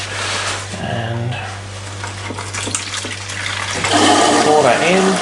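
Liquid grey fabric dye pours from a jug into a container while dyeing a jumpsuit, a splashy gushing rush of water that builds toward the end, with a steady hum underneath.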